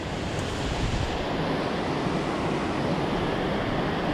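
A small trout creek in March, normally running underground at this spot, flows in a steady, continuous rush of broadband water noise, close and fairly loud, with no voices over it.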